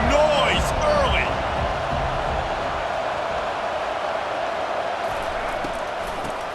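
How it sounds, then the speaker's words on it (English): A stadium crowd roars in a steady, dense wash during a Colorado versus Nebraska matchup in EA Sports College Football 25, with a commentator talking over the start. "This crowd bringing the energy and noise early."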